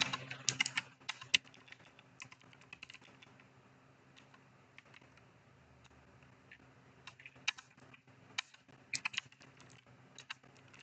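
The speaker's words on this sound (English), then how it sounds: "I'm going to start typing here" Keys clatter on a computer keyboard in short bursts of typing, separated by pauses, close and fairly quiet.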